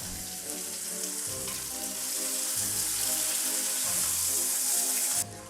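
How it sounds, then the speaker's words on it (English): Beef chunks for a stew browning in a pot give a steady, bright sizzle with a low, pulsing hum beneath, ending in a sudden cut near the close. "I love the sound of sizzling flesh."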